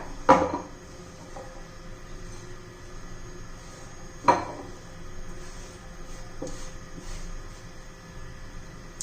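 Chopped green chillies for pickle tipped into a glass bowl, giving two sharp knocks of glass and utensil several seconds apart plus a softer tap later, over quiet room tone with no talking.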